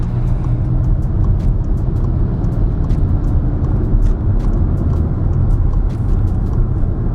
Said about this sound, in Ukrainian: спробуємо обігнати цього повільного буса